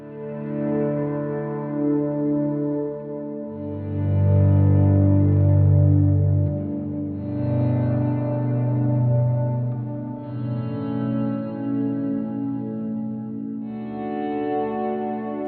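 Sustained guitar chords ringing out with a long, washy 7.5-second reverb tail, each new chord blooming over the lingering decay of the last, clear and close.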